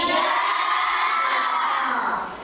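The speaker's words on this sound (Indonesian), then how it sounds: "Tepuk tangan" A group of children at an Islamic lesson about prayer breaks into loud clapping mixed with excited shouts, a dense steady burst that fades near the end.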